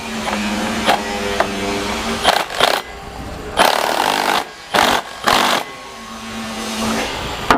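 A wrench tightens the flex disc (guibo) bolts on a BMW driveshaft, giving several short, loud ratcheting and scraping bursts at uneven intervals over a low workshop hum.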